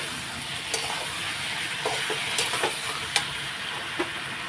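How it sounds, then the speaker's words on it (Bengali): Ground cumin, salt and other spices fry in a hot pan for a soybean curry, producing a steady close sizzle broken by several sharp scraping stirs of a spatula. "তা এখন আমি কষিয়ে নেব ভালো করে।"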